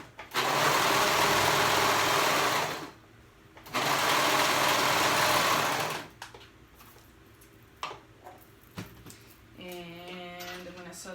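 A sewing machine stitches the side seams of a swimsuit, running in two loud bursts of a few seconds each with a short stop between, followed by quieter handling noises and faint movement.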